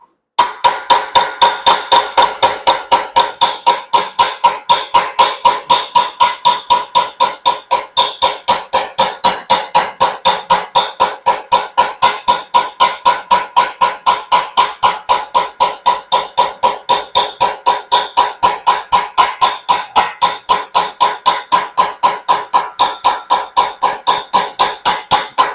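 A hammer striking a slapping dolly against the outside edge of a small sheet metal flange, producing a long, fast, evenly spaced series of loud sharp metallic hits, close and with no speech.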